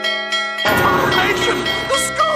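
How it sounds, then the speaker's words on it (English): A school bell rings in a classic cartoon, a bright sustained ringing that cuts off abruptly, after which an animated character's voice talks loudly over it. "The school bell! I'm late for school!"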